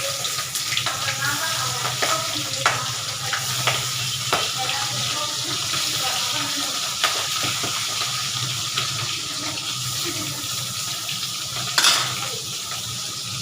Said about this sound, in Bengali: এখন আমি ট্যাংরা মাছটি দিয়ে দিতেছি।